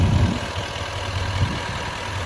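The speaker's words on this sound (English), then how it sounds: "And that Duramax is just purring." Duramax diesel in a 2019 Chevrolet Silverado 2500HD High Country idling close by, a steady low rumble with a faint ticking clatter throughout, no voices.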